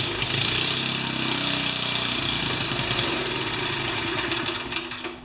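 A 1973 Briggs tiller engine roars steadily at full throttle, a loud continuous mechanical drone with a slight dip and fade toward the end, no talking over it.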